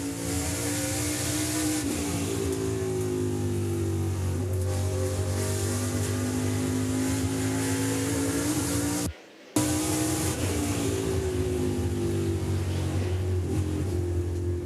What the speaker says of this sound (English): The General Tire on board with Nick Sanchez right there with him.